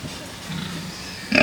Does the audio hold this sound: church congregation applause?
no